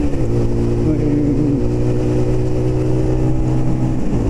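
A small motorbike engine drones and revs steadily while riding on a road, loud and close throughout with a continuous buzzing tone and wind rush.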